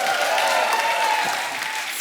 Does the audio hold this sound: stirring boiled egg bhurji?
no